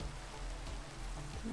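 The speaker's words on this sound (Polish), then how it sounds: "A, deszcz." Steady rain in a Minecraft game patters across a surface, a soft continuous hiss of drops with a low background hum and no voices.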